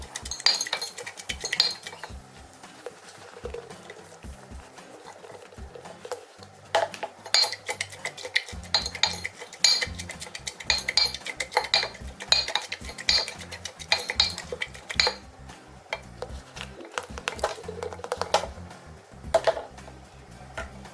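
A wooden pestle jabs and crushes grapes in a vessel for homemade red wine, producing repeated clinking, knocking and squishy stirring sounds in an irregular rhythm, close and moderately loud.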